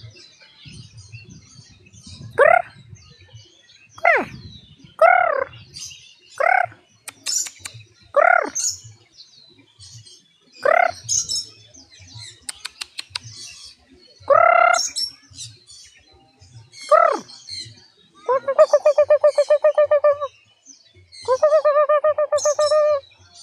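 A male peacock gives a series of loud, nasal, wailing calls spaced a second or two apart outdoors, ending in two longer harsh honking bursts, with faint background noise between calls.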